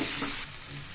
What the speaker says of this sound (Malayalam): പച്ചമുളക് ഇതെല്ലാം ആ കൂടെ തന്നെ നമ്മൾ സവോളയും കൂടെ ഒന്ന് വാടി വരട്ടെ മീഡിയം ഫ്ലെയിമിൽ മതി